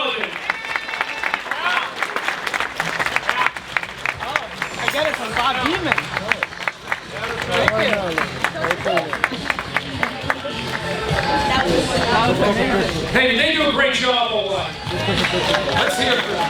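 An audience applauds at a marathon legends dinner for a service award, with dense, sustained clapping and some cheering filling the room, while a voice speaks over it at times.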